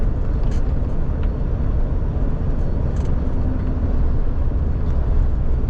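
A loaded truck drives along a highway, heard from the cab as a steady, loud engine and road rumble with no breaks.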